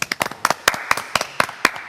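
A small group clapping along after a chart-topping music win, around ten sharp, fairly evenly spaced hand claps close up, with no talking over them.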